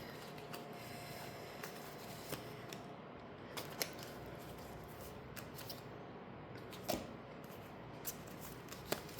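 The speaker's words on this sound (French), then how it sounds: "Je vais tirer quelques cartes pour vous." Oracle cards being shuffled and drawn, with soft papery riffles, slides and occasional small taps, faint and close over a steady background hiss.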